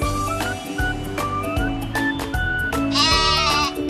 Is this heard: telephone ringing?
no